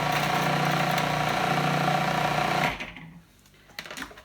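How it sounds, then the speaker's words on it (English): A food processor whirs steadily at close range for over two seconds as garlic is dropped in to be minced for a sweet pea hummus, then cuts off, leaving quiet clatter. "Now I'm using a food processor for this because it's a thick mixture."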